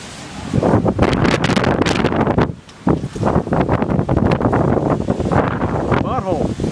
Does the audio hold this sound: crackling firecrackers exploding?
no